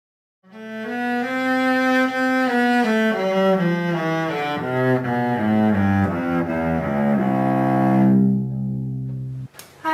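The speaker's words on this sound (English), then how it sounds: "that was the sound of the cello" A bowed cello plays a slow melodic line of sustained notes, rich and resonant, moving through several pitches before a brief pause.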